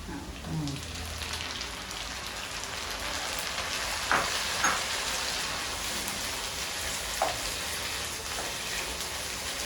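Onions and tomatoes frying in a pan for a village-style home cooking session, a soft steady sizzle throughout with a few brief clinks and stirring knocks, faint and close.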